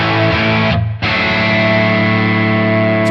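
Heavily saturated electric guitar distortion through a Tonex pedal preset, a thick sustained chord ringing loud with a brief cut just before one second, then continuing dense and steady.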